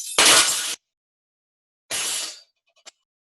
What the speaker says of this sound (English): Yes, I heard window glass breaking.